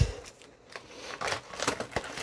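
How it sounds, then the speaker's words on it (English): Quick snipping and crisp slicing of wrapping paper with scissors, a few short bursts close by, with paper rustling between cuts. "I think we're using the scissors again."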